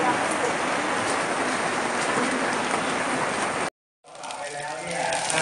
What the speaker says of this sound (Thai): ได้ยินสายฝนไหมคะตอนนี้ฝนตกหนาเม็ดขึ้นทุกทีค่ะ